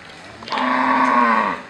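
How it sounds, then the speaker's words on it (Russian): A cow in India lows once, a loud, close, drawn-out moo lasting about a second, among grazing cattle and boars. "Кто там так мычит?"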